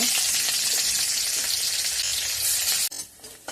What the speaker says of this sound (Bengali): রসুনটা ভাজা হয়ে গেছে, লাল লাল হয়ে গেছে রসুনটা।